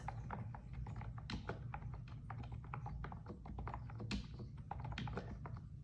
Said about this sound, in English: So let me type out a couple of things.